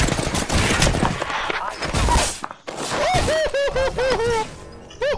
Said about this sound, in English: They're chasing me. Taking fire.